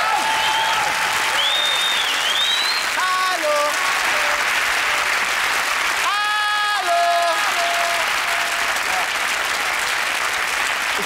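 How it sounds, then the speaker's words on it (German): A TV studio audience on TV total claps loudly and continuously, while bright whistling or electronic tones glide and step above the applause. "Haben Sie Ihren Applaus noch gehört?"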